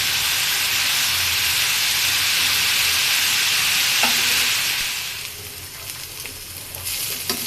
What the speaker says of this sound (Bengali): আর এখন করলাটা ভাজি করবো।